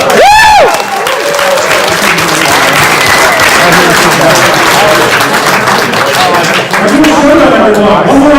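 A loud crowd at a Legend of the Five Rings world championship bursts into sustained applause and cheering, a whoop rising at the start, with voices mixed into the clapping throughout.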